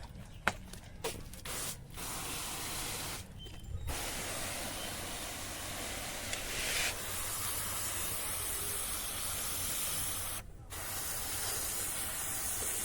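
Liquid sprayed from a spray bottle onto winter flower seedlings, a steady close hiss that runs almost continuously, broken by a few quick pauses and bursts early on, with no talk over it.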